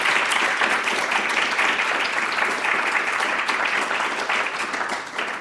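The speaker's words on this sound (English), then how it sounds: "can we give them a round of applause?" An audience at a talk gives a round of applause, dense continuous clapping at steady strength that begins to thin toward the end.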